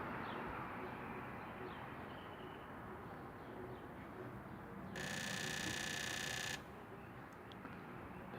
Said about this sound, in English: I'm going to hit the tester.